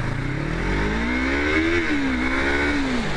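A Yamaha MT-03 motorcycle engine revs close by, loud and continuous, its pitch rising, holding, then dipping and climbing again.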